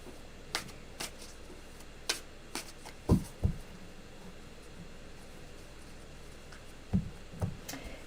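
Short riffling bursts of tarot cards being shuffled, a few quick flurries spaced apart against a quiet hiss.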